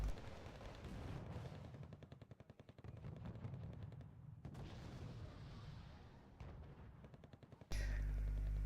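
Grenade launcher fire in Wargame: Red Dragon, a rapid string of thudding shots and booms rolling together into a dense, loud barrage with a few brief gaps, ending in a sudden sharp burst.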